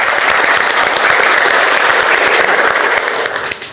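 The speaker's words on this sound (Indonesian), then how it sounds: "Tepuk tangan dulu" Dense, loud applause from a live audience at a university scholarship podcast event, a continuous wash of clapping that holds steady and then tapers away near the end.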